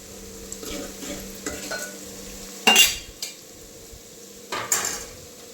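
Potatoes fry golden brown in a pan for aloo dum biryani, a continuous close sizzle broken by several louder scrapes and clanks of a utensil stirring against the pan.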